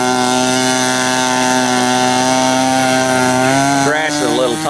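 A 60-size Reactor RC biplane engine screams loudly at a steady high pitch on a grass-field takeoff, then its tone wavers and bends near the end as the plane climbs away.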